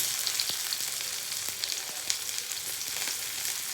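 Chopped onions frying in a pan for Indian masala Maggi noodles, a steady close sizzle with small crackles and pops running unbroken and alone.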